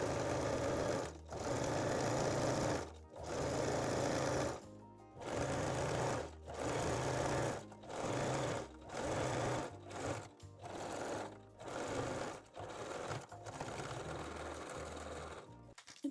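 A sewing machine stitches elastic onto bra fabric with a 3-step zigzag, running in close, steady bursts with short pauses between each run of stitches.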